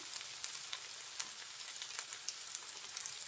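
Forest mushrooms fry in a pan with a quiet, steady sizzle. Small crackles and pops break through now and then, heard up close with no voices.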